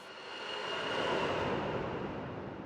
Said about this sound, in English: we've got this jet sound effect in there as well